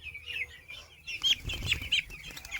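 Eight-day-old broiler chicks in a crowded poultry shed cheep in high, shrill bursts, several overlapping peeps near at hand, with soft rustling and shuffling beneath them.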